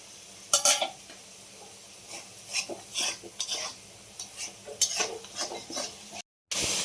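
A spice paste with slit green chilies stir-fries in a pan, the utensil scraping and knocking at irregular intervals over a soft ongoing sizzle, close and moderately loud, ending with a brief dropout.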